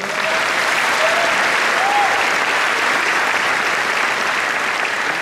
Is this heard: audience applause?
yes